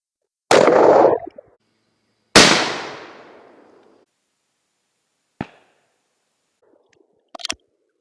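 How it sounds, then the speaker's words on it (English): Two loud 20 gauge shotgun blasts fired at a target with Kent Ultimate Fast Loads in 2.75-inch shells, the second trailing off in a long echo, followed by two sharp, fainter clacks; no talking. "So let's shoot this target and see what we get."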